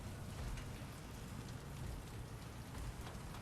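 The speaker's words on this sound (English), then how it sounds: "The rain." Rain falls in an early playtest build of the video game Midnight Society, a steady soft hiss of drops with no talk over it.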